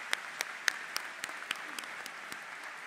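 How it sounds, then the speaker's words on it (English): Audience at a university commencement ceremony clapping with scattered, fairly sparse claps that carry in a large hall and fade toward the end. "If we could give them a round of applause as well."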